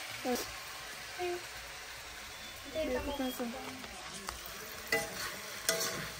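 Spices fry in a pan with a soft continuous sizzle and occasional stirring scrapes, close by, while a person talks over it.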